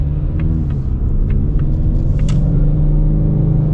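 A Ford Mustang EcoBoost cruises a hill-country highway at sunrise, heard from inside the cabin. Its engine makes a steady, loud, low rumble with no voices.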